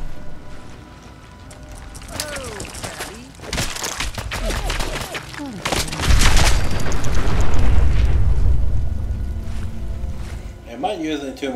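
Bombs exploding in Fallout 4 during a bad radiation storm, with deep booms swelling and rolling on for several seconds, mixed with mechanical clanks and chirps, and voices speaking over parts of it.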